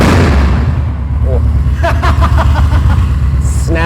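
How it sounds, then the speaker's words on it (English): A custom bagger motorcycle engine roars loudly and close, a dense low rumble with sharp popping bursts as it is revved, while people talk over it. "Give it a good rev."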